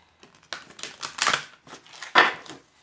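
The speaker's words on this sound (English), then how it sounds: "so I'll just give a couple of shuffles here" Papery riffling and soft slapping of oracle cards being shuffled, several quick bursts with brief pauses between them, close by and fairly quiet.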